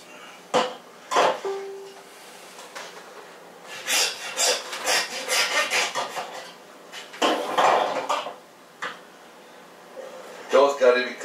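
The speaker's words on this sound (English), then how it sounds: "You cut the foot off above the knuckle here, the elbow" A knife and saw cut through a pig's foot above the knuckle during home butchering, giving repeated rasping, scraping strokes and knocks against a board at close range.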